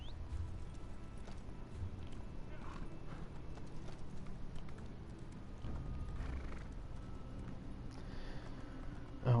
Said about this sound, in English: Oh, and this is my horse.